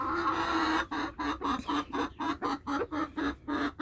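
Chickens cluck in a steady run of short, evenly spaced calls at close range, a bird routine in a home coop, with no talk over them.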